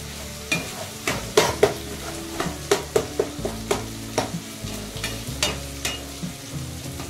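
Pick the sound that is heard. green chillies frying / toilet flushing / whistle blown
green chillies frying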